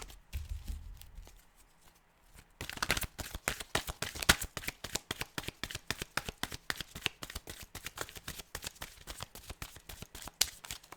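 Cards being shuffled by hand, starting with a brief low rustle and then a rapid, dense run of crisp riffling clicks that continues steadily at close range, quiet overall with no talk.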